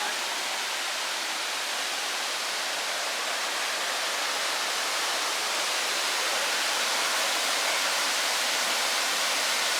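Burgess Falls, a waterfall on the River Trail in a Tennessee state park, roars as a loud, unbroken wash of rushing water, close and constant with no voices.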